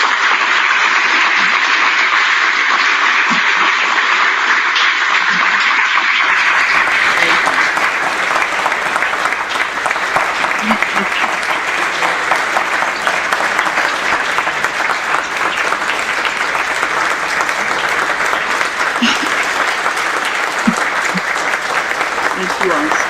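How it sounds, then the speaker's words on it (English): Audience applause at a NOAA event, dense, sustained clapping that starts up strongly after a brief quieter stretch and continues steadily and loudly to the end. "Let's give Ms. Murdoch another round of applause."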